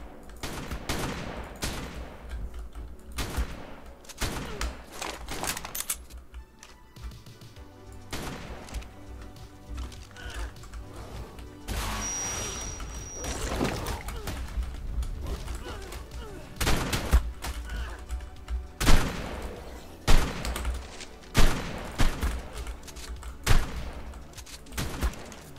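Shotgun blasts and rapid gunfire in the video game ARK, a dense run of loud, sharp repeated shots that grows heavier and more clustered toward the end, with occasional voices underneath.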